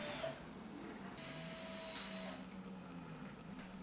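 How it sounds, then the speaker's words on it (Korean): A 3D printer builds parts for an electronic prosthetic hand, its stepper motors whining in shifting tones over a steady mechanical hum. The sound is quiet and continuous, with no voices. "전자의수의 모든 부품은 3D 프린터에서 제작된다."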